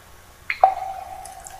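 Two clear, close water drips land one after the other, each a bright plop with a short ringing tail, in a quiet setting.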